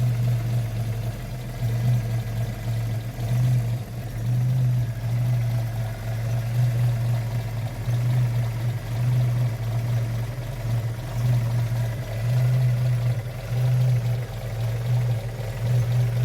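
Car engine idling with a rattly tappet noise under the bonnet, a steady low hum with a faint fast ticking, running continuously and fairly close with no talking.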